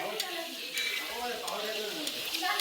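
Spices including cumin powder, Kitchen King masala and Kashmiri red chilli stirred in a frying pan, giving a close, continuous sizzle with scraping stir strokes under a talking voice.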